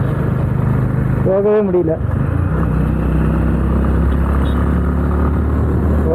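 Honda Highness CB350 motorcycle ridden through city traffic in low gear, a loud steady engine drone and wind rumble with a brief rising rev, while a rider talks over it.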